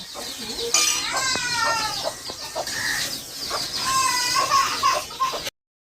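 Chicks and hens chirp and cluck repeatedly at close range while being let out to feed on broken rice, their calls overlapping in quick bursts.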